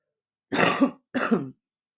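Two hoarse coughs in quick succession, close and fairly loud, followed by silence.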